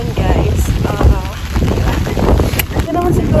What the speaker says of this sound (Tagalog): malakas yung ulan, malakas yung hangin